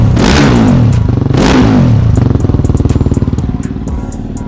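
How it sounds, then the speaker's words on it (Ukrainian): A KOVE 450 Rally motorcycle with a racing straight-through exhaust revs loudly twice, roaring up and dropping back, then settles into a rough, rapid, popping idle. "Гоночний вихлоп дуже гучний."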